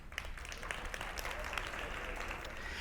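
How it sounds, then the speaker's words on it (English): A school district team applauding at a State of the Schools breakfast, steady crowd clapping held at a moderate, slightly distant level for the whole stretch. "her team clapped anyway"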